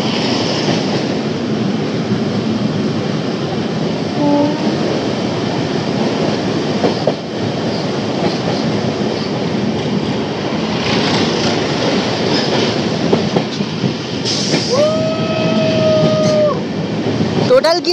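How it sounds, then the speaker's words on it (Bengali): An Amrit Bharat Express train crosses the Farakka bridge at speed, giving a loud, steady rumble of wheels and carriages throughout, with clattering and a brief wheel squeal near the end. "ফারাক্কা ব্রিজে ইতিমধ্যে কিন্তু স্পিড তুলেছে অমৃত ভারত।"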